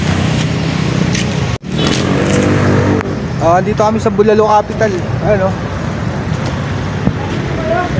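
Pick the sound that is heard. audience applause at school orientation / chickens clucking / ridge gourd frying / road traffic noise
road traffic noise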